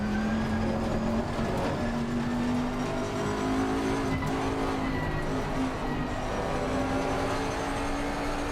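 A race car in the Assetto Corsa racing game holds a steady, loud engine drone while oversteering, the pitch rising slightly with faint tire noise underneath, continuous and close throughout.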